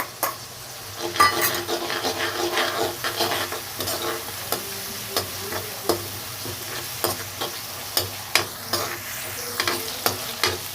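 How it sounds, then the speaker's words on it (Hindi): Chopped garlic frying in hot oil for a drumstick-flower sabzi, a continuous close sizzle broken by repeated sharp spoon scrapes and taps against the pan, with no talking. "लहसुन को मैंने 1-2 मिनट के लिए फ्राई कर लिया था तेल में।"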